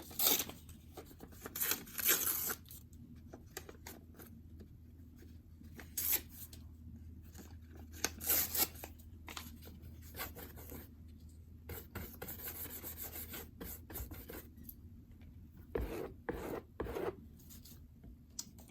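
Scraper dragged across a surface to gather paint medium, quiet rasping and scraping strokes in irregular bursts with pauses between, close and soft, no talk.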